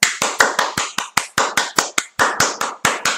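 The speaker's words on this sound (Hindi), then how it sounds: "तालियां तालियां" Sharp, distinct hand claps ring out one after another at an even, moderately quick pace, about four per second, each with a short decay, close and clear with no talking over them.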